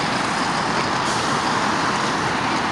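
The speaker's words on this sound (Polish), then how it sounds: "Jedzie na nas jakiś tir, uwaga." A heavy truck rumbles loudly past close by at a motorway rest stop near a petrol station, a continuous broad roar of engine and road noise holding steady throughout without any talk.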